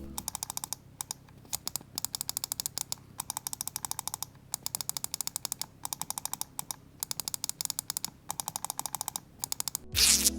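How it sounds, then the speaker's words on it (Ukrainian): The scroll wheel of a Ninjutso Ten gaming mouse ticks in quick, crisp runs of notched clicks, close and fairly quiet, with short pauses between bursts and no voices. "Колесо теж дуже пафосне, з власним інкодером, який з часом не стає гірше, завжди крутиться чітко і передбачувано."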